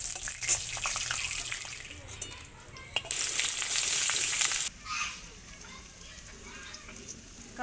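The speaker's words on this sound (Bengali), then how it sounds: "কড়াই তেল দিয়ে দিয়েছি। এবারে শুকনো লঙ্কা আর পেঁয়াজটা ভেজে নেব।" Dried red chillies and onion fry in hot oil in a wok with a bright, crackling sizzle that surges loudly midway and then settles, alongside occasional stirring clatter.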